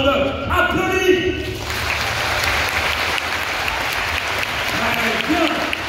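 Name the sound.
audience applause at a show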